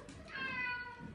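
A pet cat gives a single quiet, drawn-out meow, heard close and alone against a faint indoor background.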